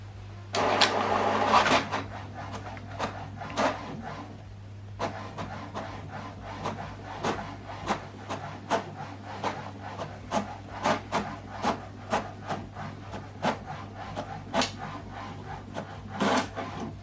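An HP Deskjet inkjet printer running close by, printing a double-sided colour document, with repeated whirring and rubbing strokes in a steady rhythm over a low electrical hum.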